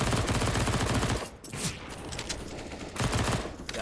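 Dense rapid gunfire in a Counter-Strike esports match, bursts of rifle shots rattling almost continuously with a brief lull in the middle before the firing resumes, loud and close.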